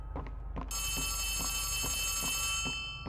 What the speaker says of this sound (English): Okay, it's ringing quite loudly.